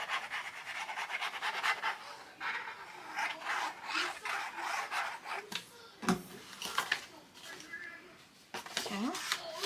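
Paper folded for an envelope folio is rubbed and burnished by hand, giving soft irregular scraping strokes near and fairly quiet, with a person speaking over them.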